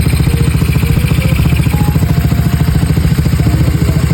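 A Yamaha Mio i 125 scooter engine running steadily on a test drive, a loud, continuous mid-pitched motor drone with even rhythmic pulsing, close and alone with no voices.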